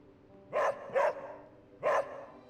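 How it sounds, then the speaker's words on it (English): A dog companion in Marvel's Midnight Suns video game gives three close, clear barks, two in quick succession then a third after a short pause, over a quiet background. "barking at the arcane chest?"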